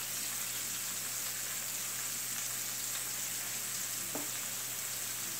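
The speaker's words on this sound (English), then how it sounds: "So now I'm going to let the fish fry on each side golden brown" Butterfish pieces frying in oil make a steady, close sizzle with a dense crackle that holds an even level throughout, with no talk over it.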